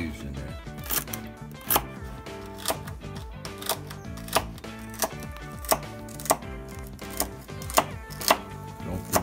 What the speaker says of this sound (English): Cut our celery up on a nice dice.